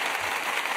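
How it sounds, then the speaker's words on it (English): A steady wash of clapping from a small group, continuous and even with no distinct individual claps standing out, heard alone without talk. "Clapping."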